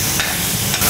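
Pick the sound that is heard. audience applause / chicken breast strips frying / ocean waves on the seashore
chicken breast strips frying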